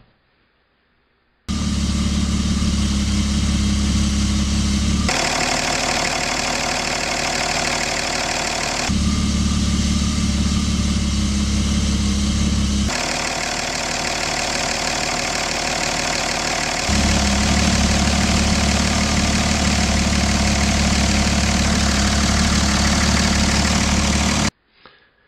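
Otto-cycle gasoline and diesel engines running together, a steady, loud mechanical drone with a low idling throb that shifts in character every few seconds across about 23 seconds, with no talking.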